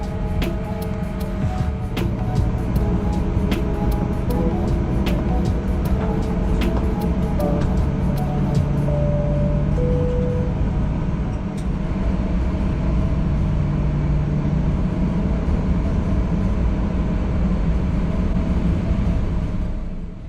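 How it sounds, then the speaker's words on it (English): A Qantas Boeing 737 taxiing to the runway: a steady cabin engine drone with a low rumble lasts throughout, joined by faint intermittent clicks and brief tonal whines, with no talking. "We taxied to runway 35 via Bravo and November."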